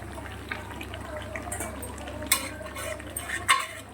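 Chicken curry is stirred and sautéed in a pan, a low steady sizzle under a few clinks and scrapes of a utensil against metal.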